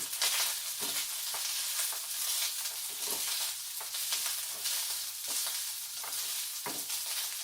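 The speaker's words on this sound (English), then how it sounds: "put my cup of rice in there and fry it pretty well" Steady, close-up sizzling of rice grains frying in a hot pan, with occasional scraping stirs breaking through the hiss.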